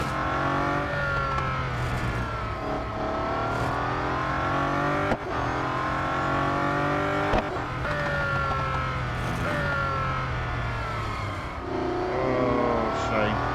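A very fast race car engine in the Real Racing 3 video game screams loudly and continuously, rising and falling in pitch through gear changes and bursts of acceleration, with a voice heard over parts of it.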